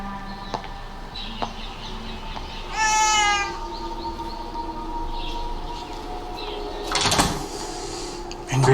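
Cat meowing indoors: a single clear meow around three seconds in, moderately loud against a quiet room background, with a brief louder burst later.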